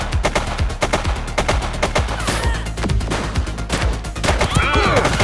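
Rapid gunfire in the police video game The Precinct, loud dense bursts of overlapping shots with a short voice shout mixed in.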